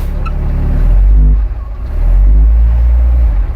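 A truck engine in low gear revs hard against a held tractor brake, a loud, deep, close rumble that rises, dips briefly, then surges again.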